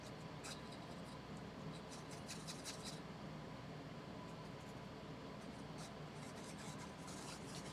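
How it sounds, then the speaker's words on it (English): A brush dry-brushes black acrylic paint across canvas, a quiet continuous rasping scrub with brief brighter strokes, close and faint, with no talk. "So I'm rubbing this, dry brushing it with my black."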